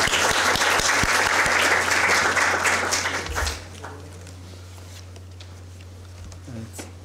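An audience at an academic talk on quantum and space applauds to welcome a minister to the podium, dense steady clapping for about three seconds before it dies away to a quiet room hum.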